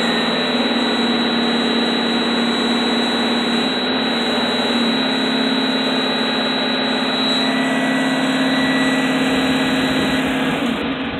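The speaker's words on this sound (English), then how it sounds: "throttle the engine up to get it going" A bus engine throttled up to charge its air brake tanks gives a loud, steady, droning roar with a constant low hum. It holds for the whole stretch with no talking.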